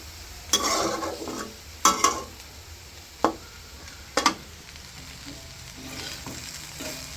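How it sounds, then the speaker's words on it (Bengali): Small fish rubbed with salt and turmeric fry in hot oil, giving a steady sizzle broken by several sharp stirring and utensil clatters spaced a second or two apart, close by and fairly quiet. "এখন এগুলো তেল দিয়ে ভেজে নেব।"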